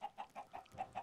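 Chickens cluck in a video game, Orc Adventures 2, with about six short, evenly spaced clucks close by and no talk over them.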